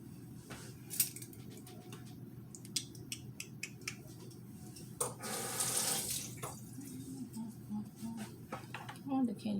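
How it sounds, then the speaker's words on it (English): Tap water runs steadily into a sink as a can is rinsed under the stream while making tuna sandwiches, with a burst of stronger splashing midway and a few clinks, under a person talking. "Wash my can off."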